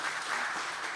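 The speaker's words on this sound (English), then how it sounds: "Please give a round of applause for Jack Wood" Audience applause for Jack Wood, urban designer, at a CIVIQ 2023 civic event, a dense, even wash of clapping filling the brief moment without any talk.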